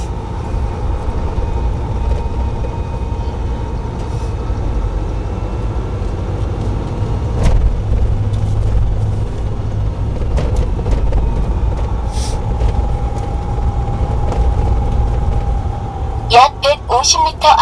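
A 2.5-ton manual-transmission truck engine drones steadily at low pitch with a faint whine as the throttle is pressed, a voice talking over it and some brief clicks near the end.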